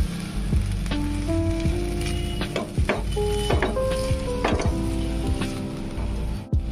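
Cauliflower florets, already fried, being stir-fried in a pan for Bengali aloo-fulkopi curry, with a steady sizzle and repeated scraping and clinking strokes of a spatula against the pan, close and loud.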